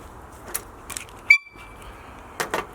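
One short, bright car horn honk sounds near the middle, a single clipped tone over a quiet room background with faint scattered clicks before and after.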